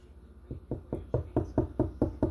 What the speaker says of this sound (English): hopefully, knock on wood